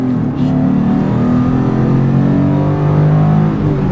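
A 1991 Nissan 300ZX coupe engine revving hard to its 7,000 rpm redline, climbing steadily in pitch, loud and close, sustained throughout.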